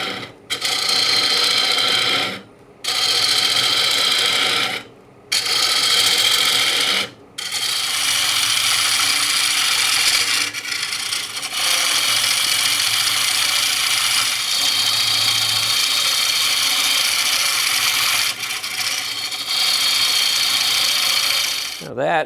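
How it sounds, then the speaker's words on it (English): Carbide-tipped scraper cutting into a large wooden platter spinning on a lathe, a loud rough rasping hiss in long passes broken by short pauses as the tool lifts away, close up. "we'll just keep going down with the little scraper here, the little carbide tip"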